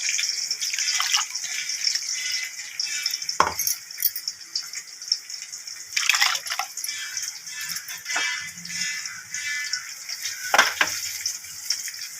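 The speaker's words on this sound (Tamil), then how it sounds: "வேக வச்ச தண்ணி ஊற்றி மிக்சி ஜாரை கழுவி வைக்கணும்" Running water splashes and trickles steadily, with a few sharp clinks and knocks of a mixer jar being rinsed, close by and fairly quiet.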